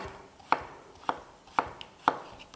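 A knife cuts thin slices of meat for çökertme kebab on a board, making four evenly spaced, crisp taps close by in a quiet room, with no talking.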